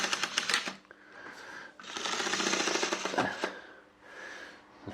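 A secondhand model train locomotive bought as junk runs on its track, giving off a strange, continuous mechanical rattling and buzzing that rises and falls in bursts with short pauses between runs.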